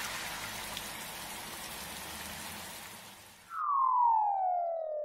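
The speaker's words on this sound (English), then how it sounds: "Pocoyo is going out in the spring rain." Cartoon spring rain falls as a steady soft hiss for several seconds, then cuts off and a bright descending sine tone follows.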